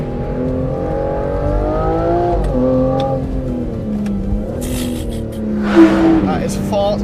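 A 2025 Aston Martin Vanquish V12 engine accelerating, its steady loud drone rising and shifting in pitch with a brief sharp burst near the end, heard from inside the car under continuous engine noise.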